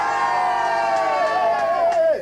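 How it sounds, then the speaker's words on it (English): Short burst of cheering and whooping from a small group of people gathered at a home for a charity radio auction, loud and close, with voices rising and then trailing off. "everyone here is going to give us a cheer"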